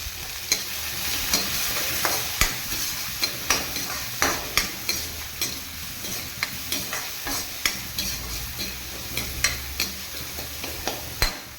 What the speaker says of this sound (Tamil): வெங்காயம் கொஞ்சம் நல்லா வதங்கிருச்சு